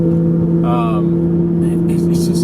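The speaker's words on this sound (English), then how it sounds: "Even just listening to this car, cruising, like just driving moderately" A car with a Toyota 2JZ engine drones at a steady, moderate hum while cruising, with a brief voice heard over it.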